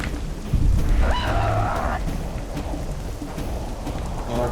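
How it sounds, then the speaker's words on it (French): Steady, dense rain hisses across the scene in The Witcher video game, a constant near wash with a brief low rumble early on and no talking. "La pluie est bien faite dans ce jeu."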